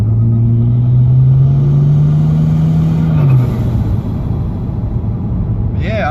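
A turbocharged Ford BA Falcon drives along with a steady engine drone that rises briefly as it accelerates, heard from inside the car with steady road rumble.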